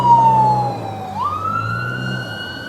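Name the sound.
emergency vehicle siren passing a park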